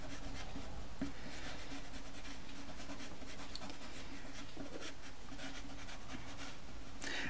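Close and soft, a pencil shades across paper in steady, continuous strokes for a drawn coastal hill scene, producing a dry, even scratching hiss with slight rhythmic pulses.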